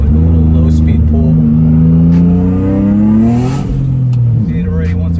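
Turbocharged 2003 Nissan 350Z with a built motor and Garrett GTX3582R turbo pulling at low speed in second gear, a loud close engine drone rising steadily in pitch, then easing off and dipping before climbing again.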